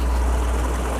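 A Chevrolet Comodoro's 4.1-litre six-cylinder gasoline engine idles steadily, a constant low rumble held at an even level throughout without voices.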